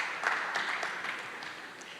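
An audience at a conference applauds briefly, a soft scattered patter of clapping heard from some distance that stays faint and fades slightly.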